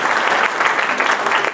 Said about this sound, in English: I think he had to get a bit of applause